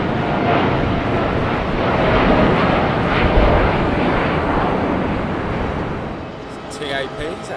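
A TAP Airbus A321neo departing London Heathrow for Lisbon, a steady broadband jet roar at close to moderate distance, holding loud throughout, with faint voices near the end.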